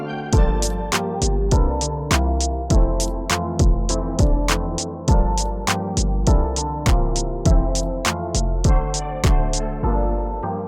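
Warm, slightly hazy synth keys play a steady chord progression with regular rhythmic hits, full and loud throughout with no voices.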